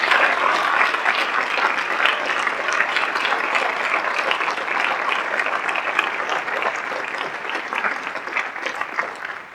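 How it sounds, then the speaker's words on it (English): A school audience applauds staff members at a recognition ceremony, a loud, sustained sheet of many hands clapping that holds steady for nearly ten seconds. "If we could please have a round of applause for all of our staff members with 20 years of service."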